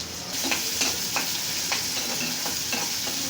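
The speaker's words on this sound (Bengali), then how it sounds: "বেশি ভাজবো না, হালকা ভাজবো।" Chopped garlic fries lightly in a pan for prawn fry, giving a continuous close sizzle with soft, regular spatula scrapes and no voices.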